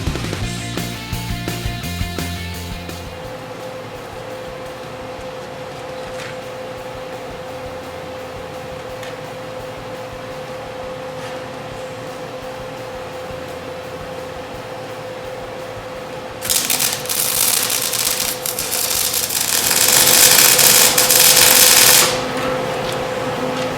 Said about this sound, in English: we're at a point now where I can start welding these up